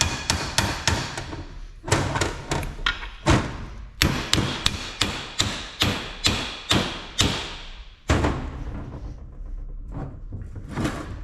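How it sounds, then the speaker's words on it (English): A hammer taps a U-joint cap into a Jeep axle shaft held in a vise, giving a steady series of sharp metallic blows in quick clusters, close and loud. "You do have to hit it with the hammer"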